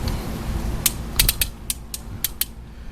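Maasdam rope puller ratcheting as its rope tightens under load, a string of sharp clicks and creaks at uneven intervals, some in quick pairs, close by over a faint wind rumble.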